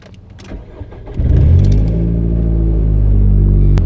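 A car with a straight-pipe exhaust and its catalytic converter removed starts up and settles into a loud, deep, raspy rumble, close and steady after a few clicks and a brief crank.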